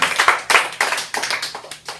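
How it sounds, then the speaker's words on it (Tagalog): A church congregation at a preaching service in Tarlac claps loudly in a steady rhythmic beat, about two claps per second, close and dense, with no talk over it. "Isa pa nga pong malakas na palakpak para sa ating Panginoon."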